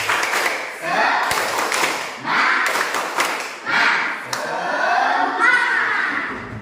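Classroom rhythmic clapping cheer, the Indonesian "tepuk semangat" chant, from pupils in an Islamic religious lesson: bursts of claps in a patterned rhythm, loud and close, with children's voices chanting along.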